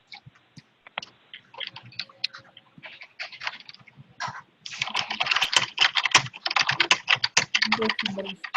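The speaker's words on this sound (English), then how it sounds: "Somebody's typing." Typing on a computer keyboard during an online group call, a steady patter of close key clicks that grows busier and louder toward the end, with no speech over it.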